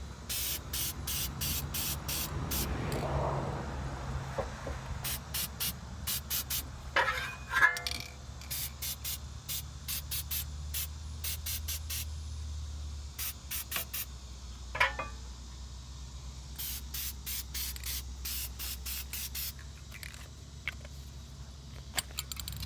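Disc brake quiet adhesive is sprayed onto brake pads for the front brakes of a 2013 Kia Forte: a series of short, sharp aerosol hisses in uneven bursts, close to the microphone, over a low hum, with no speech.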